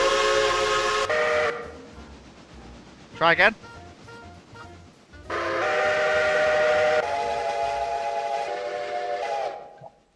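A five-chime steam locomotive whistle in the video game Railroader sounds in several long, loud, harmonic blasts, with short pauses between them and people talking over and between the blasts.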